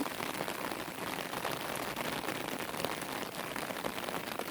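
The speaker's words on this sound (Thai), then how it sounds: "วันฝนตก ฝนตกกอย ๆถ่ายบรรยากาศฝนตกมาให้เพื่อนๆดู" Steady rain patters densely on a surface, a constant hissing wash with no voices or thunder.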